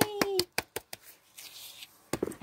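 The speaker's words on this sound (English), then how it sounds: "Claps all around." A handful of sharp hand claps ring out at a tea party, spaced irregularly in a quick burst, then a brief pause and a final cluster of claps, close and crisp, with a voice faintly present.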